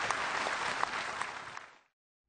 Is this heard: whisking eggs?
no